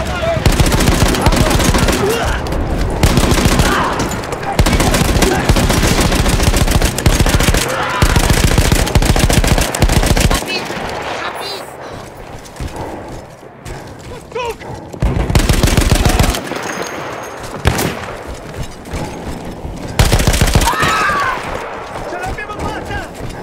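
A machine gun fires in the video game Battlefield 1 in long, loud, rapid bursts separated by short pauses. A voice talks between and over the bursts.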